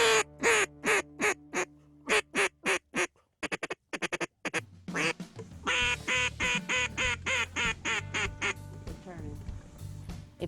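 A duck call blown by a calling champion mimics a quacking duck in a long series of sharp, loud quacks, starting spaced and then running into faster, rhythmic chained quacks close to the listener.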